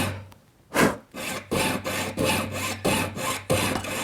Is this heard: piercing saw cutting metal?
yes